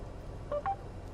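Two short dialing tones sound in quick succession as a Mercedes CLA 250's voice assistant places a phone call, heard alone against a quiet cabin hum.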